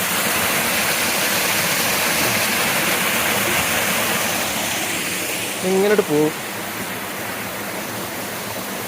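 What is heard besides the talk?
waterfall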